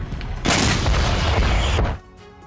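A house is blown apart in a Russian Marker UGV attack, producing one loud, sudden blast that roars and crackles with debris for about a second and a half before cutting back to a quieter rumble.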